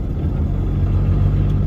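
A car drifting at Utah Motorsports Campus gives a loud, steady, low engine rumble that fills a short moment, with no talking.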